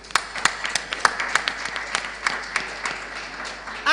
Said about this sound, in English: I actually wanted us to clap for ourselves